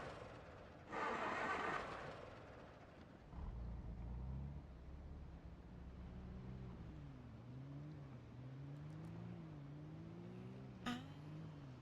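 A car engine in the survival game Project Zomboid, set in Muldraugh, starts up after a brief noisy burst and keeps running as a low, rough drone whose pitch wavers up and down.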